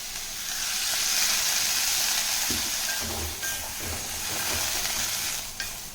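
Cluster beans sautéing in a pan with a little added water and salt give a steady, close sizzle throughout, with a few soft stirring scrapes partway through.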